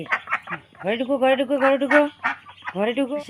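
Busy, close chorus of duck and fowl calls, overlapping nasal quacks and warbling cries in a near-continuous stream.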